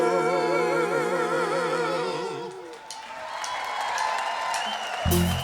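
Live roots music with sustained tones fades out, and the audience at a Music City Roots show breaks into broad, steady applause that swells toward the end.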